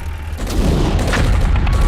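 Gunfire in a tense film climax lands as a heavy, booming blast followed by a rolling, sustained rumble, loud and close.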